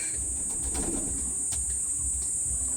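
Pigeons coo softly in low, throaty pulses over a steady high hiss.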